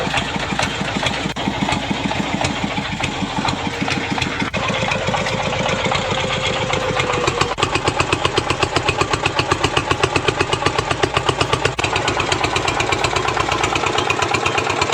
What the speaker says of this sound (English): Now the engine is doing two jobs at once, driving the wheels and pulling the tractor forward.